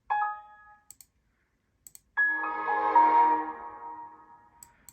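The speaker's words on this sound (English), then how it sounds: "Such a classic shut it down sound" The classic Windows XP shutdown chime, a short tone followed by a longer, softly swelling tonal phrase, clear and alone, with a few faint clicks in the pauses.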